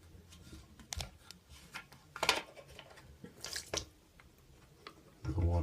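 Water dripping and splashing from a leaking toilet tank being unbolted, scattered irregular drips and wet knocks near the mic, with a short rumbling handling noise at the end.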